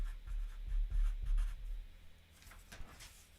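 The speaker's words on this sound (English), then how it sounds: "Let me write up here conclusion" A pen scratches steadily across paper, writing out the word conclusion in an English writing class, soft rhythmic strokes up close with no voices.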